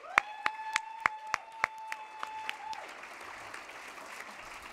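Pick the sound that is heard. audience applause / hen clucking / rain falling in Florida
audience applause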